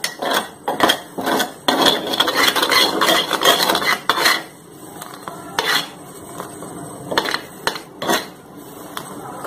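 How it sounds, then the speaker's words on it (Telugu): Syrup boiling in a pan for homemade cough drops is stirred now and then, giving scraping and clinking bursts of spoon against metal over a steady bubbling hiss, close and fairly loud with quieter gaps. "మరుగుతున్నప్పుడు మనం ఇలా మధ్య మధ్యలో కలుపుతూ కొంచెం చిక్కబడే వరకు ఉంచాలి"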